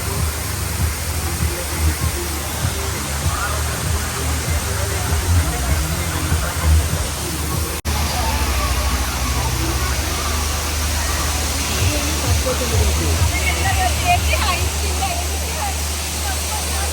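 An artificial waterfall at a town festival in Palakkad, with steady broadband rushing water pouring continuously at close range, crowd hubbub faintly mixed beneath.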